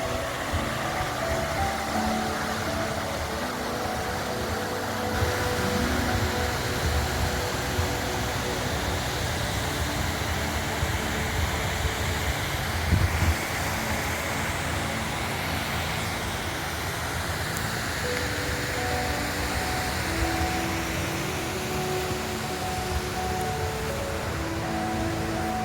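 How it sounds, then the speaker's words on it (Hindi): A mountain waterfall on the Shrikhand Kailash trek near Nirmand in Kullu, Himachal Pradesh, giving a loud, steady broadband roar that fills the whole stretch without a break. "वेरी नाइस झरना।"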